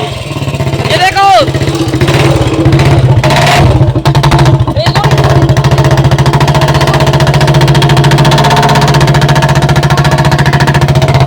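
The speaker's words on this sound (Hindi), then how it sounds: "गाइस हमारा बुलेट ठीक हो चुका है, ये देखो भाई," An old Royal Enfield Bullet motorcycle engine running after being repaired, a loud, steady, thumping idle close by throughout, with voices talking over it early on.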